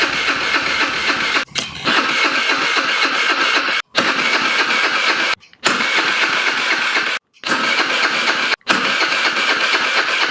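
A 50cc Chinese scooter engine is cranked and fired up repeatedly, loud close buzzing runs broken by several abrupt cutouts as it starts, stalls and restarts.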